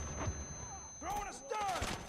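Distant gunfire and airstrike explosions in the Modern Warfare video game rumble and crack under a faint game voice, with whistling streaks of incoming ordnance passing overhead.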